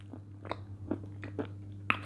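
Dry edible clay bitten and crunched close up, several sharp, brittle crunches spaced irregularly over a faint steady hum, with no talk.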